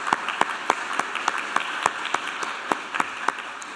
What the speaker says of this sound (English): I think that warrants a round of applause.